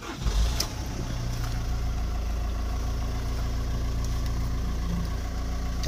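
A 2007 Volkswagen Sharan 1.9 TDI diesel engine cranks briefly and catches, then settles into a steady, close, clattery idle that runs on evenly.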